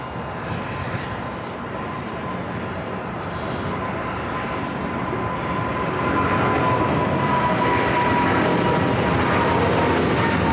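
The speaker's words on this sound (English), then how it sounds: "Qantas heading into the west gates at A380 Super" A Qantas Airbus A380 taxiing at LAX makes a broad, steady engine rumble with a faint whine, slowly growing louder toward the end, heard alone without talk.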